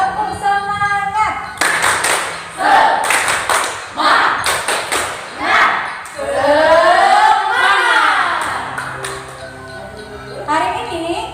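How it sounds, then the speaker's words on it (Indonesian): Children and adults at a Sunday school Christmas celebration in a church in Jambi perform a rhythmic spirit clap, with bursts of patterned clapping in short sets alternating with chanted and spoken voices. "kita akan melakukan tepuk semangat"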